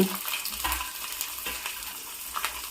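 Cauliflower pickle ingredients fry in hot oil in a pot, a close, continuous soft sizzle with occasional stirring scrapes.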